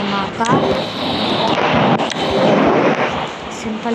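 A bomb set off at a house in a video game, giving several booming blasts and metallic clangs across a few seconds, with a voice speaking over parts of it.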